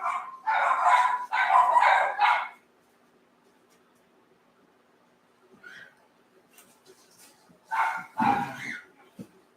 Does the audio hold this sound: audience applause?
no